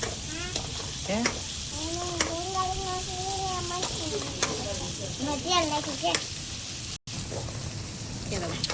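Onions fry in a pan with a steady close sizzle and stirring scrapes, while a person talks over the cooking throughout.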